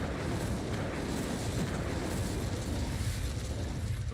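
The Incendio fire spell from the Hogwarts Legacy video game produces a dense, loud roaring whoosh of flame that holds steady for about four seconds, with no voices.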